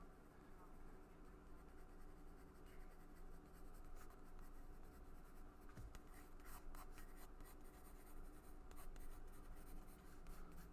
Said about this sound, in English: I do have an HB pencil. So I'm just gonna lightly block this out.